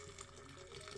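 Boiling water poured straight from a kettle over metal castings from a Matchbox 1957 Thunderbird model in a tall glass jar, a steady, faint liquid gush with no pauses for the whole second.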